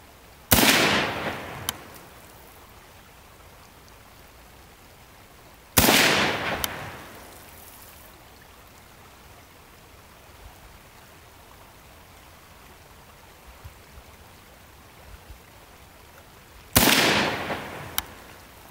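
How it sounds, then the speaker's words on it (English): Ruger M-14 rifle chambered in 5.56 NATO fired at an old license plate about 10 yards away, three loud sharp shots spaced several seconds apart, each with a ringing decay, quiet outdoor ambience between. "Let's shoot the old license plate."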